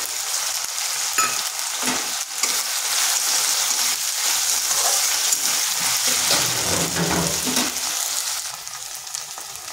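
Ginger garlic paste and a medium tomato fry in oil in a pan, making a strong, continuous nearby sizzle broken by occasional stirring scrapes, with no one speaking.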